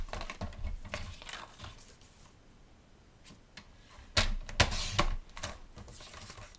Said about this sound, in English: So I'm going to grab this card base and I'm going to cut it.